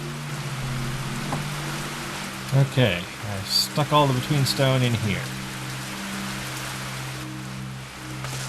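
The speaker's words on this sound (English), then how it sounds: "It's raining." Rain falls steadily in Minecraft as a soft, continuous hiss under a low droning hum, while someone talks briefly midway through.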